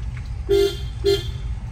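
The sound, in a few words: car horn honking in narrow Chennai street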